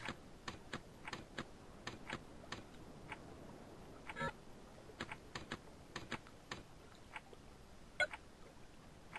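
Keys clack on a computer keyboard while typing in the Escape the Shack video game, irregular quick bursts of clicks with short pauses between them, quiet and close.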